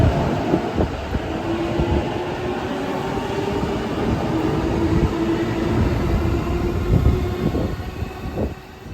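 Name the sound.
Chuo Line train ride toward Tokyo, E233 series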